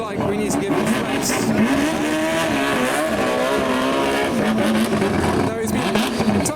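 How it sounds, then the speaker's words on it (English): A rotary-engine Mazda RX-7 arrives at a car event, its loud, steady engine drone holding close and continuous with shifting pitch, while people talk over it. "Oh, I can hear a rotary RX-7."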